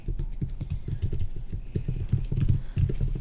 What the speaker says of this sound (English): You can hear her typing.